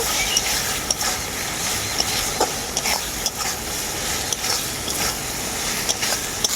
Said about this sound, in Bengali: এই কাঁচা লঙ্কা বাটাটাকে অল্প একটু নাড়াচাড়া করে নেব